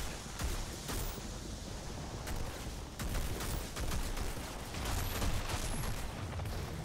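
Video game gunfire from legendary dual wield pistols in Outriders, firing blighted bullets, comes as dense rapid shots layered over a constant roar of combat noise, loud and continuous with no talking.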